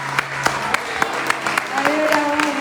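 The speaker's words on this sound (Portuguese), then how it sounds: "Você pode dar o seu melhor aplauso a Jesus?" Church congregation applauding for Jesus during a service: a thin, moderately loud patter of handclaps with a few sharper individual claps, under a sustained tone and some voices.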